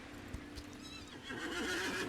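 A horse in a video game whinnies nervously with a rising, wavering neigh, preceded by a few clip-clop hoof thuds; close and clear with no speech.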